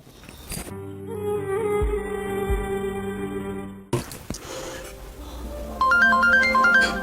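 Electronic mobile phone ringtone plays its melodic, repeating tune in a home, steady and fairly loud for several seconds, with a brief change partway through before a brighter chiming pattern returns.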